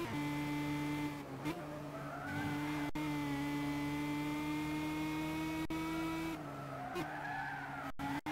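Race cars lapping in the Gran Turismo video game during a 12-hour endurance race, with steady droning engine notes that shift in pitch through gear changes and a few brief tire skids, heard without talk.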